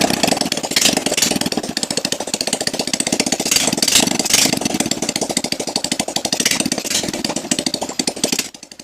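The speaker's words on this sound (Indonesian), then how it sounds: "Tujuan dari menghidupkan motor tanpa knalpot adalah untuk melihat kepulan asap." Motorcycle engine running with its exhaust removed after a piston replacement, a loud, raw rapid-fire chatter of firing pulses at idle with a few rising revs, close and harsh, cutting out at the end.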